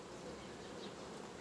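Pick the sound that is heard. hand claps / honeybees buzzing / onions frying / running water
honeybees buzzing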